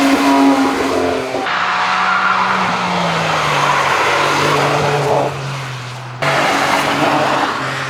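A Porsche 992.2 GT3 Touring prototype roars past on a track, its engine note sweeping down in pitch as it goes by, loud and close, with abrupt cuts between passes and no talking.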